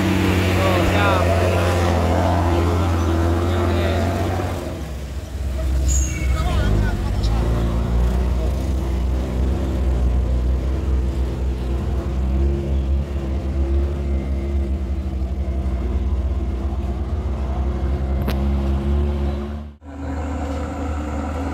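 Heavy trucks carrying stone material idle in a queue, their diesel engines giving a loud steady low rumble with a brief drop near the end, while people talk nearby.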